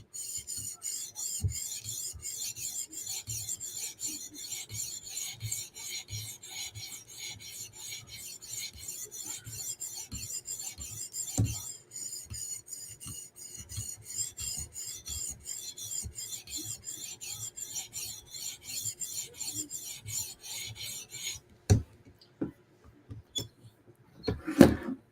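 A fixed-blade knife is drawn steadily across a sharpening stone in rapid repeated rasping strokes, close and continuous for about twenty seconds, then a few sparse scrapes and taps near the end.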